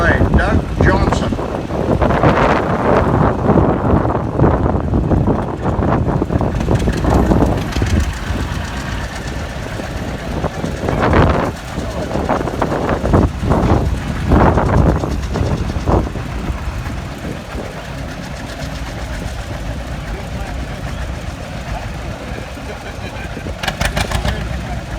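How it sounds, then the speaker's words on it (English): A 1957 John Deere 720 two-cylinder tractor running in a parade at a two-cylinder show, its engine rumble mixed with heavy wind buffeting on the microphone and intermittent talk nearby. "This next tractor is a 1957 720."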